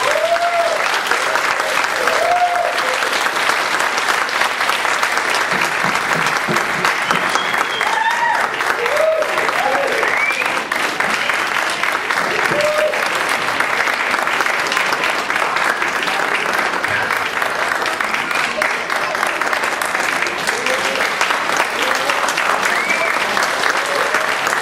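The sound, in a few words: graduation audience applause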